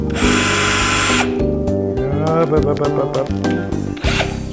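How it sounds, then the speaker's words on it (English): A power drill whines loudly at close range in short bursts, drilling holes in a board for a CNC enclosure, with clattering and scraping between runs and a brief rough grinding at the end. "and drill another hole."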